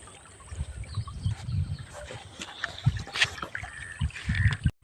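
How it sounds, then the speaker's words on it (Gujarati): Water from a river, pumped by motor, pours out of an irrigation pipe elbow in a field, making an uneven gurgling splash with bursts and a low rumble, close by. "અહીંયાથી આ એલ્બામાંથી પાણી આવે છે"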